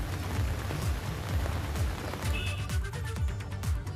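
Rain pours onto waterlogged streets in flooded Gorakhpur, Uttar Pradesh, a dense, continuous patter and splash, fairly close and steady throughout.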